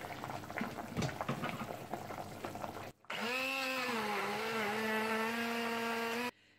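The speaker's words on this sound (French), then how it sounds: "Donc je vais passer au blender tout ce mélange." Fish soup with cooked vegetables bubbles and clatters for about three seconds, then a blender starts up with a loud, steady whirring drone that purees it for several seconds before cutting off abruptly.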